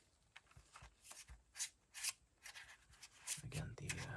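Non-gloss playing cards are shuffled in a quiet room, giving soft, papery riffles and slaps in irregular bursts, close and gentle, with a slightly louder flutter near the end.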